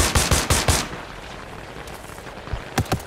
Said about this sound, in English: Shots on us, close!